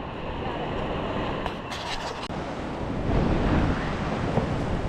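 High water rushes over Cossatot Falls on the Cossatot River in Arkansas, a steady loud roar of whitewater with wind buffeting the microphone, holding constant and swelling slightly toward the end.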